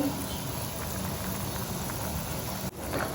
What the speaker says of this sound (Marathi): आता परत एकदा उकळी फुटली